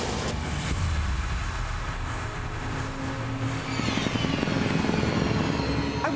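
A helicopter drones in a TV show scene, a loud, continuous rotor and engine roar that stays close and steady throughout, swelling slightly toward the end.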